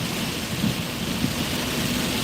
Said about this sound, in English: As y'all can tell, it is raining pretty hard.